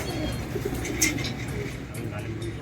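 A young native pigeon in a loft gives soft, faint coos beneath someone talking nearby.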